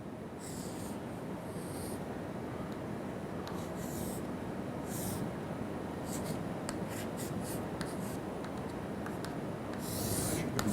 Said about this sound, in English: If I again draw this diagram